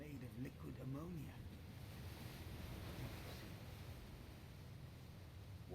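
Wash of waves on a liquid ammonia sea in the video game Eisenhorn: Xenos, a steady broadband surf-like rush with wind noise that continues evenly throughout; a brief voice-like murmur sounds near the start.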